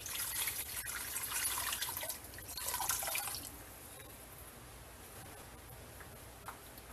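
Water pours into a cooking pot holding a boiled pork leg for pata tim, a steady splashing rush for about three seconds that then fades to faint drips and quiet.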